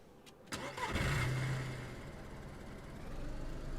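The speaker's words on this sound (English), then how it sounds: "So it is the normal DayZ engine for some reason, you know, the sound" Monster truck engine in the video game DayZ, a brief starting burst and low rumble settling into a steady mid-pitched running drone, heard alone.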